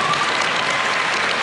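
Audience applause from a talk-show crowd, a dense, steady burst of clapping filling the whole short stretch, close and fairly loud, with no talk over it.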